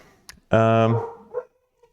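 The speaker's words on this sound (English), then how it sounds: "my dog is barking right now" A dog indoors gives one loud, close bark with a short yelp after it, then goes quiet.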